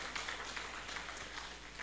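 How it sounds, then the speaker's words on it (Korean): Applause from a church congregation, a steady dense wash of clapping at low level with no talk over it. "큰 박수 하시기를 바랍니다"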